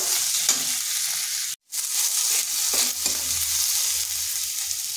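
Chopped ingredients for potato bomb fritters lightly frying on low heat in a pan, a close, constant sizzle with stirring scrapes and one brief dropout.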